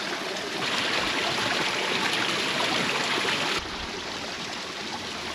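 Steady rushing of a stream flowing nearby along the Appalachian Trail, a continuous broadband wash of water with a slight drop in level partway through.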